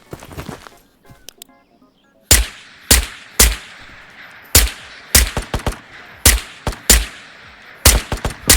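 A big gun in an extraction shooter video game fires a series of loud, sharp shots, starting as single blasts and then coming in quick clustered bursts, close and dry, with no talk over it.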